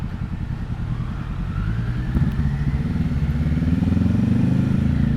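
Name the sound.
Triumph Street Triple 765 RS motorcycle riding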